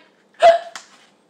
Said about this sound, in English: Will I have the hiccups forever?